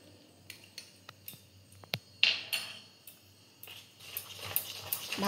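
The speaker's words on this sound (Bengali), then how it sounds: "ভালো করে মিশিয়ে নিতে হবে।" Spoon scraping and clinking against a bowl while mixing oat batter with salt, cumin powder and chopped chilli, a run of irregular close taps and scrapes growing busier toward the end.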